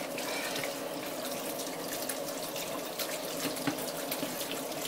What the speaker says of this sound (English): now rinse this pan now